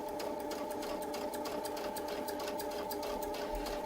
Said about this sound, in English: we're going to just sew across the other way